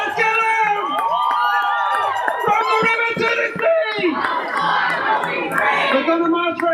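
Crowd at a Free Palestine rally cheering and whooping, with shouts and voices layered over scattered applause, lively and moderately close.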